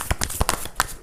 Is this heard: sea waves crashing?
no